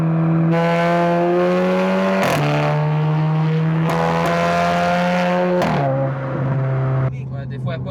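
A Seat Leon FR 5F with a 1.8L engine tuned to Stage 1+ accelerates hard, its loud, close exhaust rising in pitch through a couple of gear changes, with a short crackle at the end.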